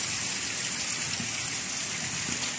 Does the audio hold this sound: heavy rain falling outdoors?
yes